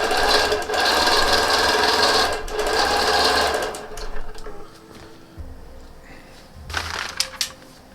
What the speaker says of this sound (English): I'm just going to start quilting